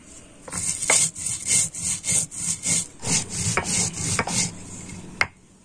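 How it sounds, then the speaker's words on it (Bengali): Spices are ground by hand on a stone slab with a grinding stone, shil-nora style, making a close, steady series of about a dozen rasping, scraping strokes in an even back-and-forth rhythm. "আমি শিলনোড়াতে মশলাটা গুঁড়ো করে নিচ্ছি"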